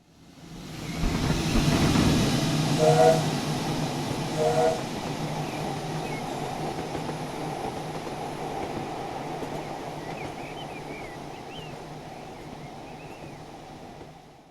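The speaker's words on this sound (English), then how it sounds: "the Port Road has been one of my go-to routes when I want to drive a standard gauge British steam locomotive" Standard gauge British steam locomotive in Train Simulator, a steady low rumble with hiss and rolling rail noise that swells early with a couple of brief whistle-like tones, then settles to a constant moderate drone.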